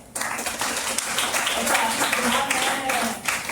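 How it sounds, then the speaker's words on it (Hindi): Loud applause for a speaker at a business seminar fills the hall, dense clapping sustained throughout, with some voices mixed in. "आदित्य कुमार सर के लिए जोरदार ताली।"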